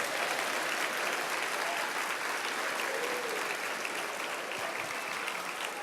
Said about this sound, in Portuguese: dá um glória a Deus e aplauda ao Senhor Jesus